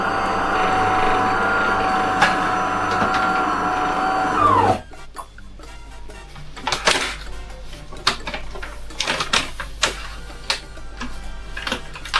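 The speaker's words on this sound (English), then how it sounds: "I guess that's because the motor, the pump was running dry." A DeLonghi Magnifica Plus coffee machine pump runs dry with a loud steady mechanical drone, then cuts out and gives way to irregular ticking and clicking mechanism sounds.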